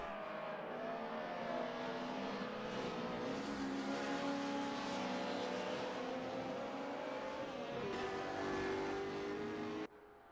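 A Mercedes 190E race car in a DTM racing video game on the Nordschleife screams along at high revs, its steady, loud engine drone rising and shifting pitch before cutting off abruptly at the end.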